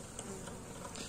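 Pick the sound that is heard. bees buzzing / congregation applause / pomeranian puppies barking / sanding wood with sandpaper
bees buzzing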